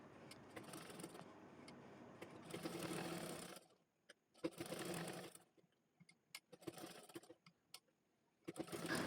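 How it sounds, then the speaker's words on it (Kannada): A sewing machine top-stitches the main fabric of a child's lehenga, running in several bursts of rapid whirring stitching separated by short quiet pauses, close and alone. "ಈಗ ಮೇನ್ ಫ್ಯಾಬ್ರಿಕ್ ಮೇಲೆ ನಾವು ಟಾಪ್ ಸ್ಟಿಚ್ಚನ್ನು ಹಾಕ್ಕೊಳ್ಳೋಣ."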